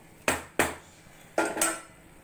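Broken wheat upma being stirred in a pan, with four sharp scraping strokes of a utensil against the metal, spaced in two pairs and close by, with no talking.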